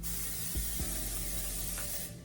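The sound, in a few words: olive oil cooking spray being sprayed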